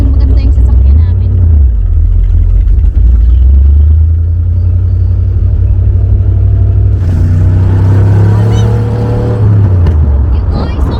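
A car engine revs and accelerates hard, a deep droning rumble rising and falling in pitch as it speeds up, loud and close from inside the cabin, with people talking over it.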